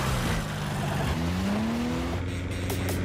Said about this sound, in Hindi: एक साइकिल नहीं है, गाड़ी है, गाड़ी।